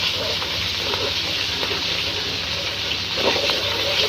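Ginger garlic paste fries in hot oil in a pan, giving a steady, even sizzle and hiss that holds throughout with no talk.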